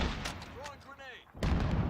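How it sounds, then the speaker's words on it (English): A grenade going off in Call of Duty Warzone, a sudden heavy blast near the end that follows a stretch of in-game radio chatter and distant gunfire. "Throwing grenade."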